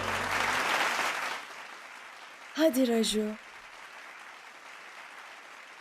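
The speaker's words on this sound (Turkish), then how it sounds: "Herkesin onu kocaman bir alkışla karşılamasını istiyorum" An audience applauds for Mr. Raju's stage performance, a broad wash of clapping that fades within the first second or so, followed by a brief spoken voice over quiet room noise.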